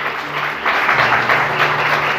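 A church congregation applauds loudly and steadily, the dense clapping swelling slightly partway through, with faint voices underneath.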